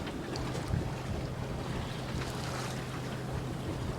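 Wind roars across the mic aboard a sailboat in open water, steady rushing noise with low water slosh beneath, constant and close, no voices.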